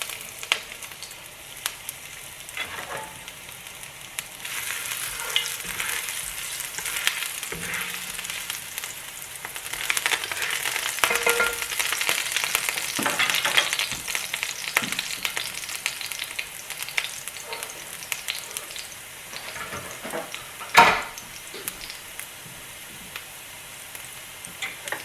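Ginger strips frying in smoking-hot olive oil, a continuous close sizzle that swells in the middle and tapers off, with scattered small ticks and a sharp clatter near the end.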